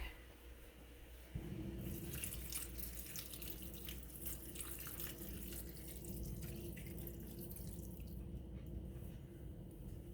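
Water from a tap runs steadily into a cup for homemade BBQ sauce in a kitchen, a continuous splashing pour that starts after a brief pause and carries on at a close, even level.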